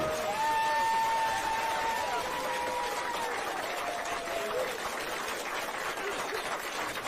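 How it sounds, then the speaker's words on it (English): Audience applause and cheering fill a live show space, a broad steady wash of clapping with a few voices calling out, fading gradually over several seconds. "This applause is for you"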